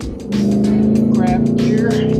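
A Mustang's engine pitch climbs and settles as it downshifts, humming steadily close by while a voice talks over it.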